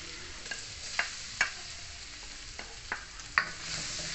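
Garlic sizzles steadily in melted butter in a wok, a broad hiss with several sharp scrapes and taps of stirring spaced through it, close and without talk.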